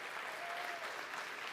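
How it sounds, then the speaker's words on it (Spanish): A church congregation applauds in a steady, dense wash of clapping, moderately distant and fairly soft, with no break over the short stretch. "Eso merece un aplauso, mis hermanos."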